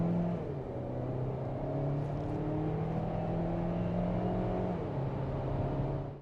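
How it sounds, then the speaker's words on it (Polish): A Dongfeng Huge car accelerates hard with its wheels spinning on a test track, the engine holding a steady droning whine that rises slowly in pitch, fairly close and with no one talking. "Zgubiłem trakcję, ostro przymieliłem kołami."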